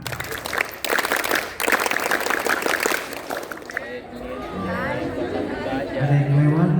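A crowd at an Indonesian scout gathering performs a scout clap, a few seconds of dense, loud clapping broken by short pauses that gives way to chatter and a speaking voice.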